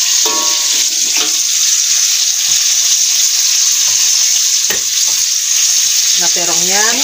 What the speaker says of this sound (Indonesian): terongnya udah selesai di Irma gorengnya